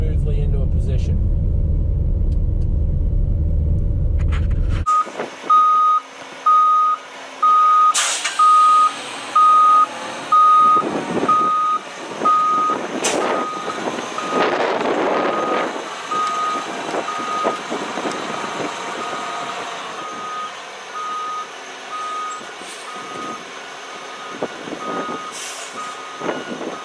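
A Grove TMS9000 truck crane with an Eaton transmission backs up with a loud steady run of reversing beeps over its engine rumble and air-brake hisses, while someone talks over it.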